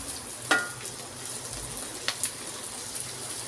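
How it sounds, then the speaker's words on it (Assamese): Okra frying in a pan with onion and turmeric, a steady soft sizzle broken by a sharper clack near the start and a few light scrapes of stirring. "এতিয়া মই ইয়াত ভেন্দিখিনি দি দিম।"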